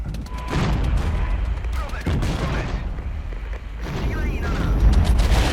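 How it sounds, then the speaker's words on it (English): Rocket and airstrike impacts pound infantry in the real-time tactics game Regiments, with heavy booms and rolling explosions overlapping in a dense barrage that swells louder near the end. "Rockets coming in on that infantry."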